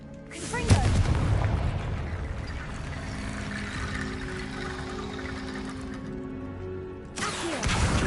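A Confringo blasting spell explodes in Hogwarts Legacy, a sharp loud burst followed by a long rumbling, crackling tail, then a second blast onset near the end.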